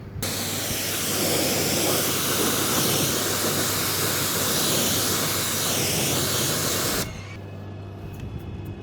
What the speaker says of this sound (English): So I'm just going to go ahead and spray it down